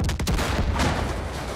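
Loud, dense gunfire from the video game Far Cry 5: a rapid burst of shots at the start, then a sustained roar of shooting and echo, with no talking over it.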